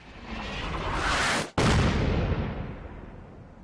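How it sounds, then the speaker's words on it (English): Artillery cannons shelling in Fallout 4: a loud, sustained roaring barrage of booming blasts, cut by a split-second gap before surging again at full intensity. "And there is my 3 artillery cannons, is what that was earlier. So they get it all lined up, get ready, and they shell the place."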